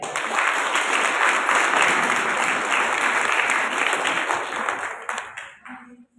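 Audience at a motivational meeting clapping loudly together, a thick continuous roar of hands that holds steady, then fades out quickly near the end.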